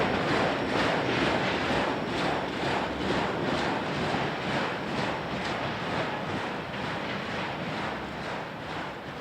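A Gibson transfer freight train of auto racks rolls past, a continuous loud rushing roar with regular rhythmic wheel clatter pulsing through it, steady and close throughout.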